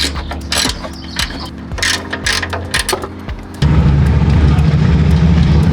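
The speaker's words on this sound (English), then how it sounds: "Now we're gonna attack this bottom bolts and the 3 top bolts to drop the strut out." A ratchet clicking in quick repeated strokes while loosening strut bolts on a Lexus GX470 during a long-travel lift install, close and loud, then giving way to a steady louder mechanical whir.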